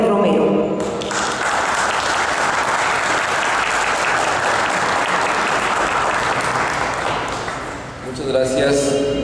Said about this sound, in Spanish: recibamos con un fuerte aplauso a nuestro invitado especial de esta tarde